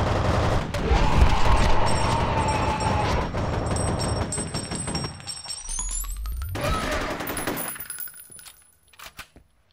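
Enemy gunfire in the video game F.E.A.R., rapid bursts of shots with tinkling metallic casings and crashes, loud and dense before fading into sparse pops.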